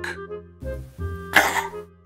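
A couple of short, throaty burps with a pitched, squeaky quality, followed by a sharper, breathy burst near the end.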